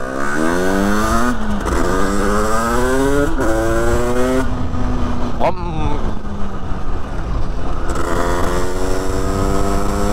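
An overheating 86cc moped engine with an aluminium top end runs loud and close, its buzzing pitch climbing repeatedly in rising sweeps between brief drops.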